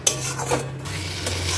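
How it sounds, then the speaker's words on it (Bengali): A spoon scrapes and stirs poppy seed paste into fried spices in a pan, making close metallic rubbing and clinking strokes over a low steady hum, with no voices. "এবার এই পোস্ত বাটাটা দিয়ে একটুখানি মশলাটাকে কষিয়ে নিতে হবে, মানে পোস্ত বাটাটা একটু কষিয়ে নিতে হবে।"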